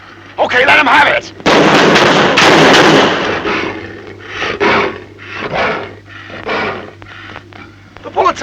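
Gunfire in a 1956 sci-fi monster film about fire maidens of outer space, several loud sharp shots in a burst, mixed with shouting voices and movie sound.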